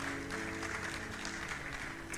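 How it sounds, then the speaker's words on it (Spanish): A church congregation gives a dense, steady round of applause that fills the room at low, even volume. "¿Le puedes dar un aplauso a Jesucristo por su palabra?"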